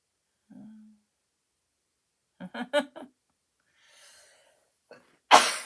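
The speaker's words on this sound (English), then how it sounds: "Bless my husband, he's in there sneezing." After a few scattered breathy sounds and a brief hum, a single sharp sneeze from a man in another room bursts out at the end, somewhat muffled and distant.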